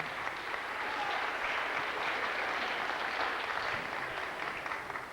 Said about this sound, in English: Give them another round of applause there now,